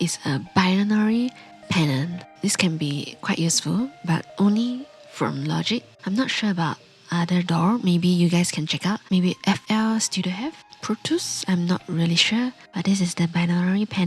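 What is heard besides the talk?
No everyday noise stands out behind the speech.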